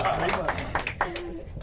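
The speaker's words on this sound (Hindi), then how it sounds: "तालियां हो जाए एडमिन्स के लिए भी, तालियां हो जाए सिंगर्स के लिए भी, तालियां हो जाए ऑडियंस के लिए" An audience claps during a music group programme with singers on stage, brief scattered hand claps sounding beneath someone speaking over a microphone.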